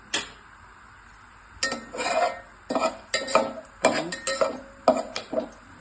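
Cashews sautéing in a pan for coconut milk rice, stirred with a spoon that scrapes and clinks against the metal in a series of short, close strokes over a faint sizzle, with quieter pauses in between.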